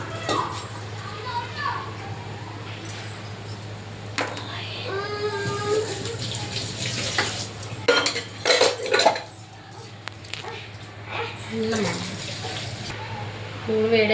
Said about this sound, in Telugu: అల్లం వెల్లుల్లి అంతే సింపుల్ మసాలా దంచేసుకుందాం ఇప్పుడు రోట్లో వేసి